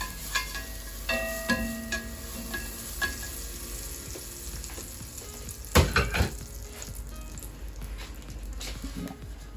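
Butter sizzles in a hot pan for pancakes, a soft continuous frying hiss broken by scattered clinks and scrapes of utensils and one louder clatter near the middle, close by with no talk.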